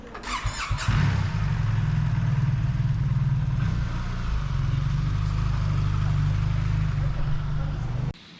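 A rented motorcycle in Funchal, Madeira, idles with a steady low engine hum for several seconds after a brief louder burst at the start, then cuts off near the end.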